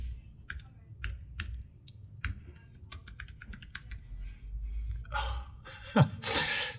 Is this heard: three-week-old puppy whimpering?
no